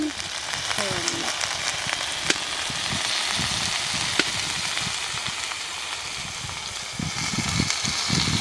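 Onions and chilies fry in hot oil for a sarputi fish curry, a steady close sizzle with crackling bursts and stirring scrapes running throughout, with no talk over it.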